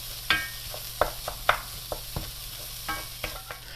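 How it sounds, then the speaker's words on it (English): Impossible Burger plant-based ground patty sautéing with Mexican seasonings in a pan, a steady sizzle under repeated close spatula scrapes and taps at an uneven rhythm, no talking. "So I'm just gonna let this saute and work for a little bit."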